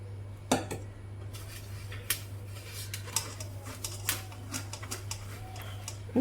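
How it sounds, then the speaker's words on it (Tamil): Lumpy semolina (rava) stirred and pushed through a large-holed sieve, giving light scattered scraping clicks and taps over a steady background hum, with no talking. "உங்கள்கிட்ட பெரிய ஹோல்ஸ் இருக்கிற சல்லடையாக இருந்ததுன்னா அதில் இந்த மாதிரி கிளறி எடுத்துக்கோங்க"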